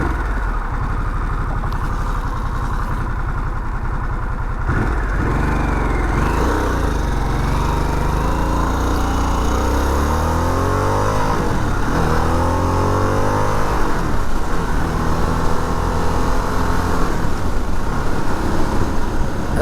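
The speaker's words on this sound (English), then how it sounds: "What you hear, and probably on the video as well, is just the motor." A 2021 Harley-Davidson Sportster S motorcycle engine runs loud and close, idling with a deep throb before several rising and falling revs, its rumble steady throughout with no talking.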